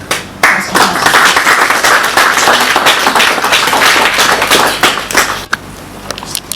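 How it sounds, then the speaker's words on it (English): A tech talk audience gives a speaker a round of applause, loud, close, crisp clapping from a sizable crowd that holds steady before breaking off abruptly and trailing into a few scattered claps. "Can we please clap once more?"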